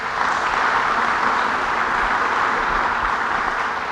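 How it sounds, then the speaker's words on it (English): Audience applause at a governor's public announcement event, an even, dense wall of clapping from a large crowd that holds steady without pause. "And to Adam Bello, let's give him a round of applause."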